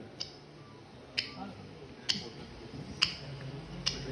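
A voice mimics a clock's ticking hand with sharp clicks spaced about a second apart, five in all, over a faint background murmur.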